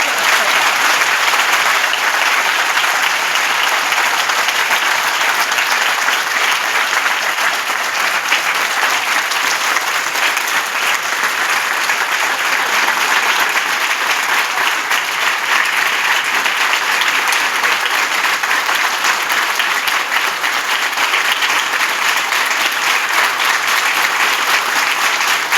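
Sustained audience applause at a university-level camp, a big crowd clapping steadily and loudly without pause for a long stretch, no voices standing out.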